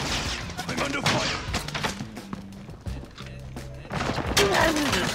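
Gunfire rattles in the battle royale video game Warzone, with rapid clustered shots and bursts close in the mix, while players talk and shout over the shooting.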